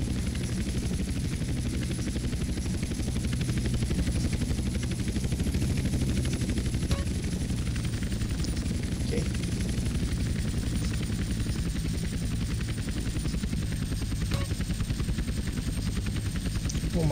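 A helicopter in GTA San Andreas Definitive Edition drones with a steady, loud rotor and engine hum throughout, with faint game effects and no voices.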